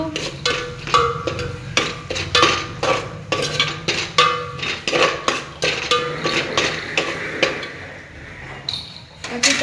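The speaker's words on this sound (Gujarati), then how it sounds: "પછી મીઠું નાખવાનું એને થોડી વાર હલાવી દેવાનું" A spoon scrapes and clinks against a metal pot as salted food is stirred, giving a busy, close, irregular clatter of taps and scrapes with no talk.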